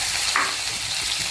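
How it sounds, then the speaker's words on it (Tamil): Onion and chilli sautéing in a pan for spicy kara chutney, a steady broadband sizzle with faint stirring, fairly loud and continuous with no voices. "வெங்காயமும் மிளகாவும் நான் போட்டிருக்கேன்."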